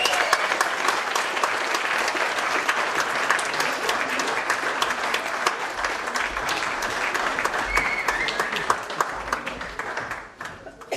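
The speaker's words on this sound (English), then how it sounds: "a big round of applause, come on." Wedding guests applaud steadily in a room, a dense sustained wash of clapping from many hands that carries on without a break before tapering off at the very end.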